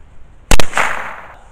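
A single sharp 9mm gunshot fired outdoors at a wood block, a loud close crack with a brief doubled attack, followed by a fading outdoor echo.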